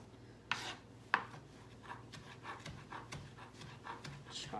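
Parsley being chopped with a knife, a quiet run of light, uneven blade taps against a board after two sharper knocks near the start, with faint background noise and no talk.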